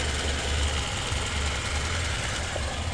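A 2004 Chevrolet Cavalier engine idles steadily as it nears operating temperature, a continuous low rumble heard up close with no voices.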